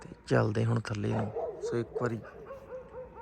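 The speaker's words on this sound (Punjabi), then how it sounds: "ਕਰੋ ਚੈੱਕ ਕੁੱਤੇ ਭੌਂਕ ਰਹੇ ਆ" Dogs barking and yipping at night in a village in Punjab, the sharp barks fairly close and at times overlapping, with someone talking over them throughout.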